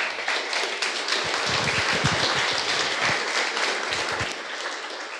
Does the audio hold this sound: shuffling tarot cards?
no